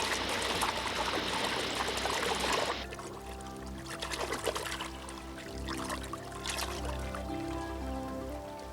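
Flood water from an overflowing lake rushes and trickles in streams, a loud continuous gush at first that drops to a softer, steady flowing trickle with faint tonal background sounds.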